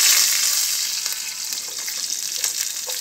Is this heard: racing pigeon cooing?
no